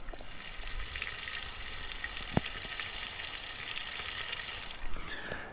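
Roast pork sizzles steadily inside an Akorn Jr. kamado grill heating toward 150 degrees Celsius, a faint, continuous frying hiss with a few small pops and crackles, heard alone without speech.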